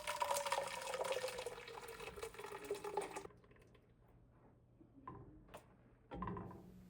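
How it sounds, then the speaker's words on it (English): Thick blended asparagus soup pours from a blender back into a pot, a close, steady liquid rush for about three seconds, followed by quieter clinks and a few brief knocks. "Pour back in pot."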